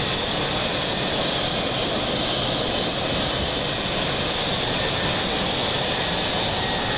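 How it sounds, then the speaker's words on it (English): Jet engine roar and jet wash from a Mirage F1 fighter in the DCS flight simulator, a loud, steady, broadband rushing blast filling the whole clip with no voices. "Uh-oh, here comes some jet wash."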